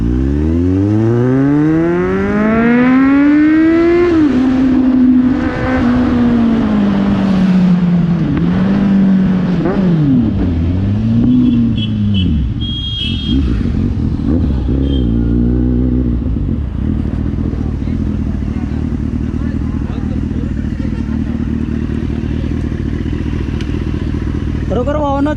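A Kawasaki Z900 motorcycle on a ride near Kolhapur revs hard, its engine note sweeping up and down through gear changes before settling into a steady loud drone, with a rider's voice talking over it.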